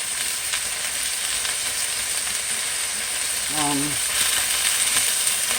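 Chicken pieces sizzling steadily in a pan after being flipped, a constant close frying crackle with a brief voice murmuring partway through.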